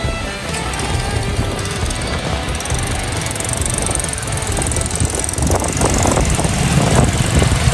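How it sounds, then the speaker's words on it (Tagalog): A motorcycle engine drones steadily nearby on a street, its mechanical buzz building slightly louder toward the end, with no voices over it. "May motor."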